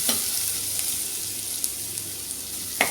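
Tomatoes and onions sautéing in a pan give a steady, close sizzle with a few sharp crackles and clinks of a stirring utensil, with no voices.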